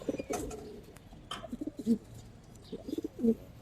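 Silver-colored army pigeons coo in soft, repeated bursts, close by and fairly quiet, with a few brief clicks and rustles between the calls.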